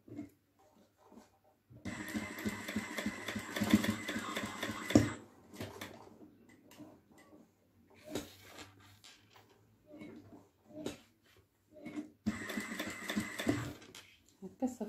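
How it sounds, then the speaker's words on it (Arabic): A sewing machine stitches around a kitchen curtain hem in two bursts of rapid close-up whirring with a pause between, while someone talks quietly and handles fabric in the gaps. "دابا غادي ندور معاها بالخياطه"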